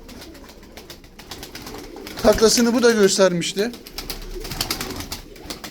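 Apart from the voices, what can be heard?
tumbler pigeons cooing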